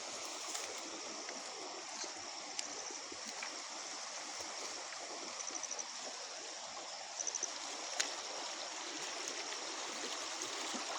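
A small rural stream with grassy banks flows steadily, giving a continuous close rush and trickle of water with no pauses and no voices.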